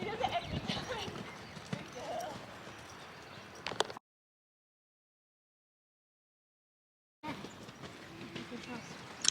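Horse cantering toward a fence, with a rhythmic clip-clop of hooves under steady outdoor ambience; the sound drops out entirely mid-clip before the hoofbeats resume.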